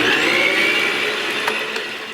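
A steady, loud whir of an electric mixer blending muffin batter in a home kitchen, a continuous motor hum that shifts slightly in pitch and then cuts off near the end.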